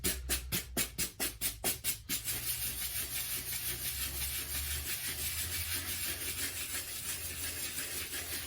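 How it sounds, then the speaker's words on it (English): A brush scrubs a Nike Dunk Low sneaker, first in a fast rhythmic series of about ten close strokes, then settling into a softer continuous rubbing. "Just have to give a little scrubbing. Get your brush in there."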